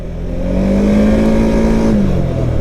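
A 2023 Can-Am Outlander 700 XT ATV engine revs loud and close while riding, a steady droning pitch rising and holding before easing off near the end.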